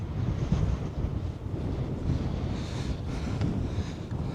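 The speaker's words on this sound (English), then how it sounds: "that is the beach and Breen Point in the distance" Steady wind and rolling surf at a beach by a Somerset campsite, with a headland in the distance, a continuous rumbling wash with wind buffeting the microphone and no talk.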